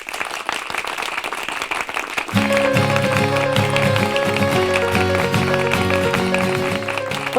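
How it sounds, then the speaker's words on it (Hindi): A crowd of people in a comedy show's classroom scene burst into loud, rapid applause for about two seconds before music swells up and carries on steadily. "इसी बात पर सबकी जोरदार तालियां हो जाए।"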